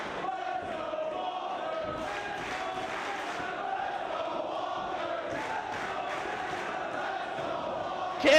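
A professional wrestling arena crowd roars and murmurs steadily throughout a championship match, a loud continuous wash of voices with a commentator talking over it.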